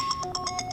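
A mobile phone ringtone plays a quick run of bright, evenly spaced electronic tones, fairly clear and on its own.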